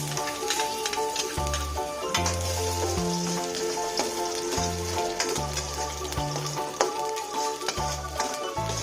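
Onions frying in hot oil for a Filipino-style creamy spaghetti, giving a steady loud sizzle with scraping stir strokes and a low rhythmic hum beneath, no talking.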